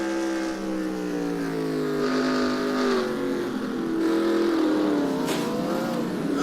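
Onboard engine of a NASCAR stock car at Pocono racing in the Sitco car, a loud continuous whine whose pitch climbs and dips as the driver shifts and lifts, with no voices.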